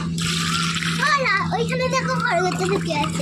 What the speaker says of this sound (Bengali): গাছগুলো ভালো করে জল দে আরে ভিজে গাটা ভিজাচ্ছে তো